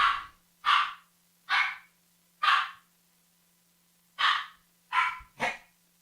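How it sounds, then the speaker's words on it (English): A dog barks indoors, giving seven loud, close barks in an uneven rhythm, alone over a low steady hum. "Sorry, my dog was barking."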